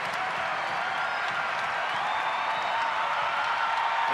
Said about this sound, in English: as the crowd begins the celebration here